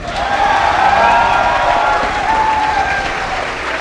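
An audience at a Summer Games Done Quick speedrun event claps loudly for a few seconds, a dense burst of applause that gradually thins out.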